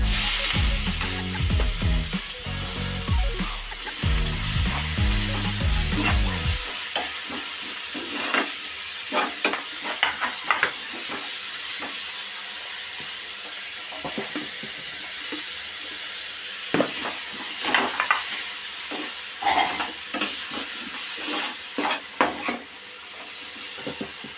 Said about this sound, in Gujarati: આપણું ઓઇલ એકદમ ગરમ થાય એટલે આપણા બધા જ વેજીટેબલ્સ નાખી અને સોતે કરી લેવાના છે